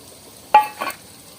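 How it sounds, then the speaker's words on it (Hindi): Chopped capsicum dropped into a pan of frying noodle masala, giving a short sizzling burst and a brief stirring scrape, close and alone. "हम इसमें ये शिमला मिर्च डालेंगे"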